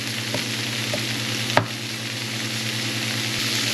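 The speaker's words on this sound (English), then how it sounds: "Garlic burns, so you gotta have the meat ready. Saute it so it'll be fragrant." Garlic and pork sautéing in a pan give a steady close hiss and sizzle, broken by a single sharp clink of a utensil partway through and a few faint stirring ticks.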